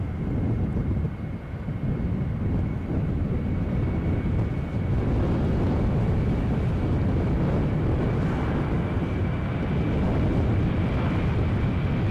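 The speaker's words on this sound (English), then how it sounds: "I'll just let this Jet 2 go so we can enjoy the engine noise" A Jet2 jet airliner at Edinburgh airport roars as a steady, broad engine drone with a faint high whine, mixed with gusty wind buffeting the microphone throughout.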